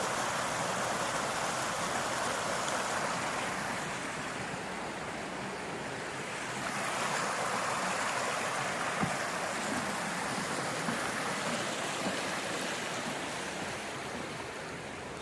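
Rock Creek flows under a small bridge in a steady, broad rush of water that holds even in loudness throughout, with no voices over it.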